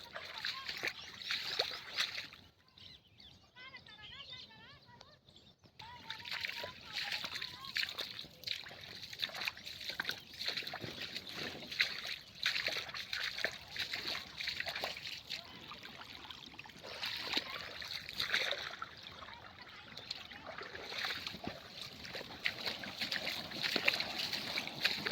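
Irrigation water flows freely along the ground between young banana plants about three and a half months old, faint sloshing and trickling heard under someone talking.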